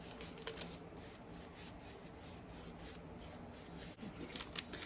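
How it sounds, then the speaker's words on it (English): An older paintbrush works clear wax over painted furniture details, giving a steady close scratchy rubbing with quick repeated strokes and no talking. "I like to apply with wax with my brush when I'm having these details"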